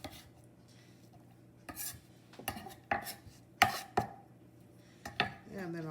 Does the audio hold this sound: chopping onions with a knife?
yes